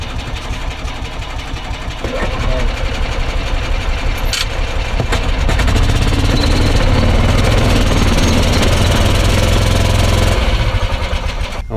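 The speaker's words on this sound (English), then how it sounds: "let me hear the sound of your diesel" A diesel engine on a beater golf cart runs at a steady idle. The rattling chug is close and continuous and thickens into a fuller rumble partway through, with no talking over it.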